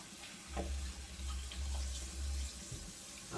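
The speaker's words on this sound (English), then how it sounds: "I gotta wash this out before this gets sticky." Water runs from a kitchen tap while a sticky pot is rinsed out after cooking spaghetti with plant-based meat, a steady close rush with clattering and splashing as the pot is handled.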